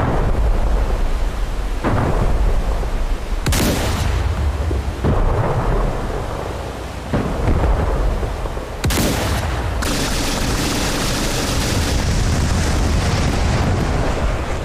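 Heavy weapons fire from a Type 052C destroyer in DCS World Combined Arms: loud, deep booming blasts recur every couple of seconds, each rolling out into a long rumble, with sustained roaring between shots and no voices.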